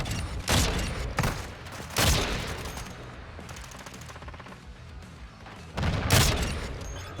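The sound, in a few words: gunfire from a gun in the video game Call of Duty MW3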